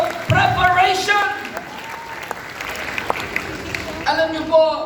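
A church congregation claps during a worship service, a steady patter of applause running beneath a speaker's voice and some music throughout.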